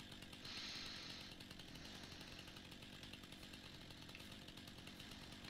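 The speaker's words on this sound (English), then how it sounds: "Love this chainsaw." A chainsaw in the farming simulator game Farming Simulator 19 drones at a steady high buzz, revving briefly louder near the start and then holding an even, continuous whine.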